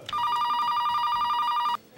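A telephone rings once in a restaurant, a bright electronic trill that starts abruptly, holds steady for under two seconds and cuts off, heard close and loud against a quiet room.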